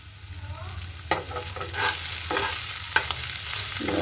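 Onions fry with small mola fish and curry leaves in a pan, a steady sizzle broken by a few sharp spatula scrapes as everything is stirred.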